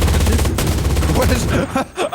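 Sustained rapid gunfire from an infinite-ammo weapon in the online shooter CRSED, loud and continuous for most of the moment, tapering into scattered shots at the end, with a voice faintly underneath.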